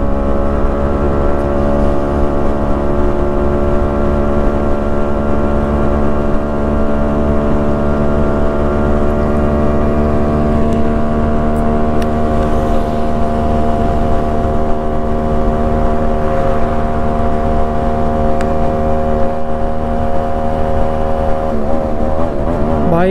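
Two Yamaha RX135 two-stroke motorcycles run together on a mileage test ride, their engines droning loud and steady at a constant cruising pitch with a dense buzzing hum throughout, ending in a brief wavering shift near the end.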